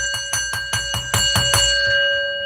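A wrestling ring bell clangs in a rapid series of about seven sharp strikes at an arena event, each one ringing with a bright metallic tone that hangs and fades after the last hit.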